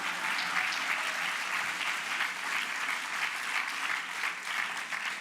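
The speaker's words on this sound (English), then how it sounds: "Clap." Steady, moderately loud applause from an audience at a Harvard development event, many hands clapping in a dense continuous patter for several seconds with no talking.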